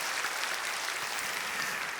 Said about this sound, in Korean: 우리 장로님들께도 감사의 박수 하겠습니다